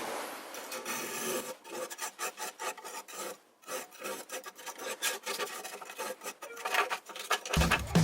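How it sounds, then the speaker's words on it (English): Repeated rasping scrapes as creosote is worked off a wood stove, a quick rhythmic series of short strokes, close and fairly quiet. "I'm just gonna scrape this creosote off here."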